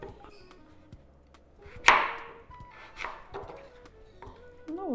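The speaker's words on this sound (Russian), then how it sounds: "Картошку тоже нарезаем крупненько" A few crisp knife chops cut potatoes into large chunks on a cutting board, spaced irregularly, with a sharp clear hit followed by softer ones in a quiet kitchen.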